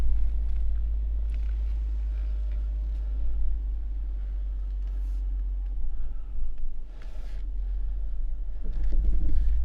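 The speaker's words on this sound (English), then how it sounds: "we're gonna continue on now in crawl mode. We're gonna be in low and just, it's gonna do all the driving." A 2024 Lexus GX 550 Overtrail crawls off-road in low-range crawl mode, giving a constant deep engine rumble with soft scrapes and shifts of movement over rough ground, no speech.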